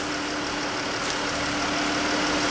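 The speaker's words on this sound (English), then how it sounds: "Quieter. Idling's good." Pentastar V6 engine idling after a rocker and lifter replacement, a smooth steady hum with a faint tick, continuous and fairly close, with no talk.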